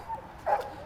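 A young farm dog gives two quick, faint barks at a distance outdoors, the second one a bit louder than the first.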